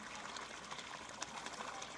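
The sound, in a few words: air bubbles starting a water siphon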